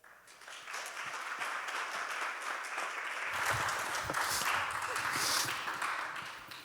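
A conference audience claps for the speakers coming on stage, a sustained moderate round of applause that swells in the middle, with faint voices mixed in.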